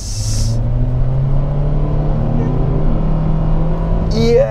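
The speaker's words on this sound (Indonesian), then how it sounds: "Sekarang kita coba gas. Ya. Ini kita dari berhenti." A Mitsubishi Xforce pulls away from a standstill, its engine holding a steady, moderately loud hum inside the cabin with a slight rise in pitch; a voice speaks briefly near the end.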